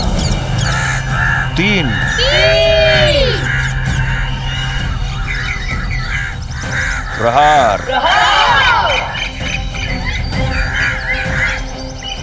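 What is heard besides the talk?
flock of birds screeching in flight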